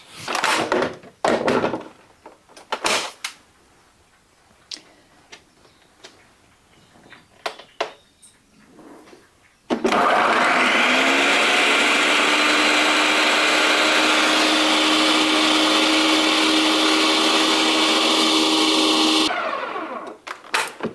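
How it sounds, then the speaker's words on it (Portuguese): Clicks and clunks of a countertop blender being handled and its lid fitted, then a loud, steady motor whir as it grinds ingredients for a natural sugar substitute, running for about nine seconds before stopping abruptly. "vamos então colocar aqui a tampa no liquidificador e vamos começar a triturar"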